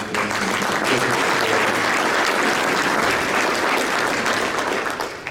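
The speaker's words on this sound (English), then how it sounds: "can I just take a second and ask for a round of applause for the folks that have worked on the work" A luncheon audience at an awards event breaks into sustained, dense applause that fills the room at full strength for several seconds before easing slightly at the end.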